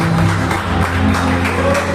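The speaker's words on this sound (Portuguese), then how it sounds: "aplauda ele bem forte, aplauda ele bem forte" A church congregation applauding, loud dense clapping that holds steady throughout with crowd noise mixed in.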